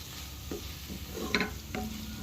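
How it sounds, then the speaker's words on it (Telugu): A taro masala with salt, chili powder and turmeric fries in a pan, giving a soft sizzle under a few light scrapes and taps of a stirring spoon, close-up and quiet with no speech. "ఉప్పు తగినంత వేసి కొద్దిసేపు వేయించుకోవాలి."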